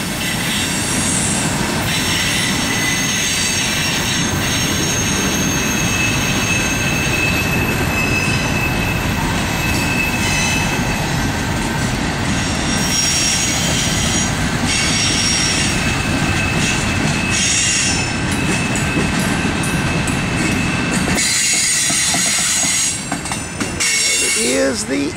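The rear of a CSX Q401 freight train rolls past at a terminal, a loud, continuous rumble of railcars with clattering wheels and metallic squeal, close by, fading slightly near the end.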